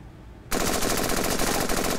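A sudden burst of rapid rifle fire from the cartoon game Henry Stickmin Collection starts abruptly and continues loud and steady as a fast chattering stream of shots, with no talking.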